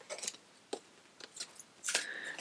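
Stiff cards riffle and slide against each other in short bursts, quiet and close, ending with a longer crisp shuffle.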